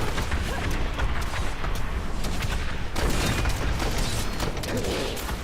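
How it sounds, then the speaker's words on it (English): Explosions in the video game Diablo 3, a dense barrage of booming, crashing blasts and bursts that fill the scene continuously and loudly, with no pause between hits. "Stand in a whole bunch of explosions."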